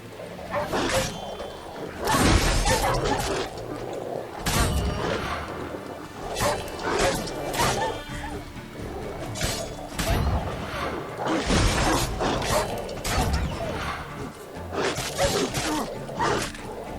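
Combat with a wild dog in the video game Witcher 3: repeated whooshing sword swings, heavy impacts and snarling growls in loud bursts, with brief quieter gaps between clashes.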